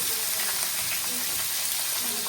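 Onion and curry leaves fry in a hot pan, giving a dense, even sizzle that stays close and continuous for a couple of seconds with no one speaking.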